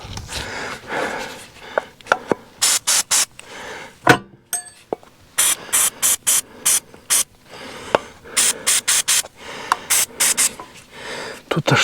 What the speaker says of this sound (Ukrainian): Пшикаємо ще раз видешку.